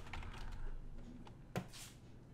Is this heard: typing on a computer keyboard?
yes